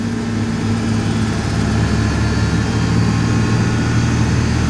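A 2002 Ford F-150 4.2L engine with exhaust and oxygen-sensor fault codes, held at around 2000 RPM in a steady, even drone with a low hum and no change in pitch.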